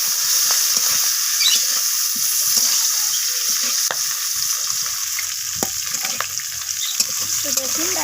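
Drumstick vegetable (sajne data) pieces frying in hot oil with a little salt, giving a steady, close, bright sizzle throughout, with occasional small pops and stirring clinks and no talking.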